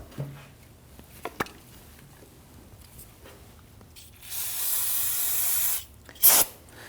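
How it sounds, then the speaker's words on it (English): An aerosol can of brake cleaner solvent hisses in a long steady spray of about a second and a half, followed by a shorter burst, with faint clicks beforehand, while cleaning around a rear brake caliper on a 2013-2019 Ford Interceptor Utility. "use some spray solvent and clean this up"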